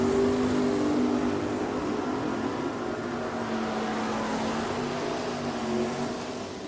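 A drag race run at Richmond Dragway between a '68 Nova and a Mustang, a loud, sustained engine roar with a steady droning pitch that slowly fades near the end, with no talk.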